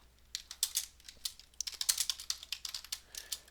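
Keys clacking on a computer keyboard as a .NET run command is typed for a C# program, in quick irregular bursts of close, crisp taps with brief pauses between.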